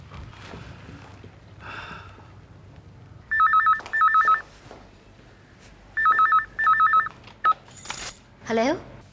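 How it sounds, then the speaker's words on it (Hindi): A telephone rings in an office, sounding two double bursts of electronic trills a couple of seconds apart, loud and close, with faint background noise between them. "आप फोन करके क्यों नहीं पूछ लेते?"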